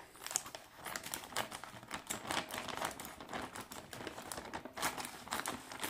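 A sealed bag of coins being cut and torn open, with a busy, continuous crinkling and crackling of plastic close up, irregular and moderately loud, no talking.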